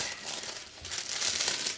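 Paper crinkling and rustling close by, a steady dry crackle that swells slightly toward the end, with no voices.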